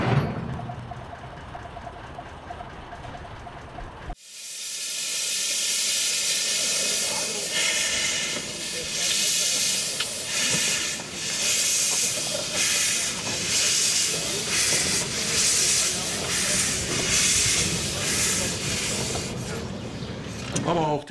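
A museum steam locomotive brakes with a sudden loud burst of hissing steam that continues steadily and close, with rail clatter and mechanical noise beneath, after a brief low rumble.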